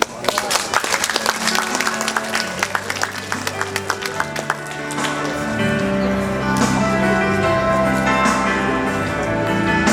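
An audience claps at a Suncheon city citizens' talk forum: a burst of dense clapping in the first half gives way to a louder, steadier wash of crowd noise and sustained sound.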